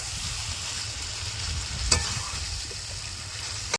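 Meat frying in a pan for a home curry, a steady low sizzle with soft scraping of a spoon stirring, one sharper clink midway and a small knock at the end.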